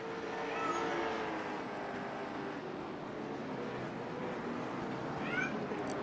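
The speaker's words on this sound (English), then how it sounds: "I heard my cat meowing too" A cat meows faintly a couple of times over a steady roar of background noise from a racing broadcast.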